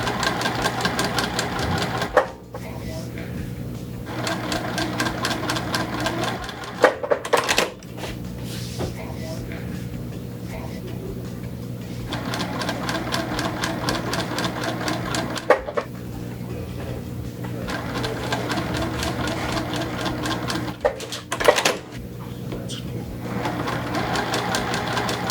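Sewing machine stitching quarter-inch seams on half square triangles for a quilt, a steady fast whirring run that stops briefly and restarts several times, close and continuous.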